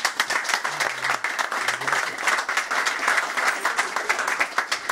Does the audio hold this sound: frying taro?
no